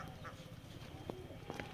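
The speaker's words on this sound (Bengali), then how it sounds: "হাঁস রাখি আমরা ওইখানে।" Ducks in a netted pen beside a roadside farm pond in a village, giving a few faint, brief quacks over steady outdoor background noise.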